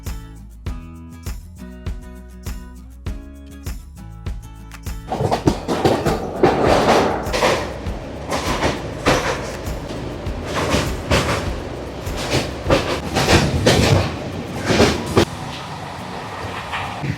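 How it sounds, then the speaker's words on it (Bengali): A train departing Sealdah station rumbles into motion after a quiet stretch of steady clicking, then runs loudly with rhythmic clattering and rattling, close by. "আমাদের ট্রেন রওনা দিল শিয়ালদা প্ল্যাটফর্ম ছেড়ে তার গন্তব্যের পথে"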